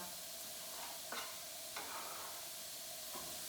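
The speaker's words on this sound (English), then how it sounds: "So we're going to saute these onions on medium-high heat" Onions saute in a pan on medium-high heat with a soft, steady sizzle, faint and close, broken by a few light scraping stirs.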